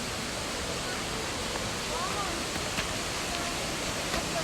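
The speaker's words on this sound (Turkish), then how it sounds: "Evet ya şelaleyi bulduk." A waterfall in a nature park rushes as a steady, dense broadband roar that stays constant and fills the whole scene without pauses.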